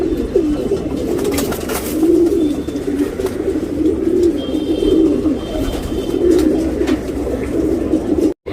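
A male pigeon coos close by in a low, throaty, repeated rumble, bursts rolling steadily one after another over a faint background, with a few higher chirps from other birds.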